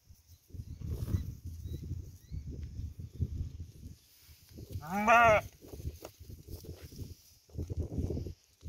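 A single sheep bleats once, loud and fairly close, on a sheep farm in the dry northeastern Brazilian backcountry, amid low rustling and footstep-like noise before and after.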